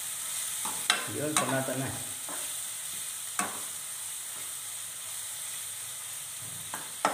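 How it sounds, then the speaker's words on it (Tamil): Mushrooms with green chilli and turmeric hiss in a pan in a constant steady sizzle, with a few sharp scrapes of stirring and a short stretch of speech near the start. "நல்லா ஃப்ரை பண்ணுறீங்க சொல்லுங்க"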